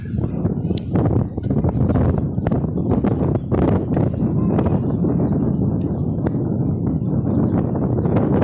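A horse walks along with rider aboard, its hooves clip-clopping in a steady uneven rhythm close by, under light wind and outdoor rustle, with no voices.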